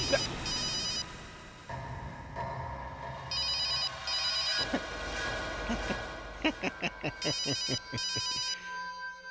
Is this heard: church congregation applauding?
no